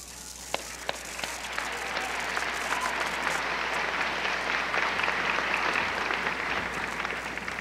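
A large audience at a college commencement ceremony applauds, a dense and sustained wash of clapping heard from some distance, starting with a few sharp individual claps and swelling to a steady roar.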